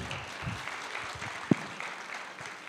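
A seated audience applauds softly and steadily at the closing panel of an Amazon-themed forum, the clapping faint and distant, with one sharp knock partway through.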